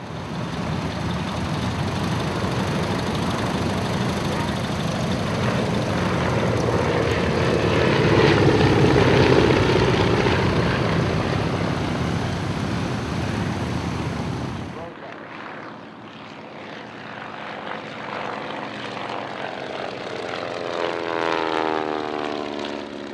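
Engines of two Art Deco Beech Model 17 Staggerwing biplanes give a sustained propeller drone that swells and fades, then drops to a thinner, more distant hum. A voice talks over it.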